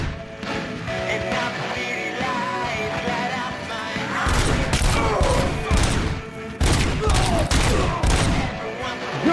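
Dense bursts of gunfire from the Robocop Rogue City video game, loud and close, firing in rapid volleys with heavy thumps between them and no pauses.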